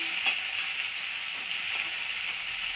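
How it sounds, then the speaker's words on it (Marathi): Ginger garlic paste fries in hot oil with bay leaf and curry leaves, giving a steady, bright hiss and sizzle at moderate level with faint stirring scrapes, and no talking. "आणि हे आहे अद्रक लसूणचं पेस्ट. याला आपल्याला हलवून घ्यायचं."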